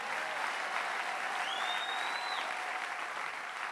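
A church congregation claps in sustained, even applause that holds a dense, steady level throughout, with no speech standing out.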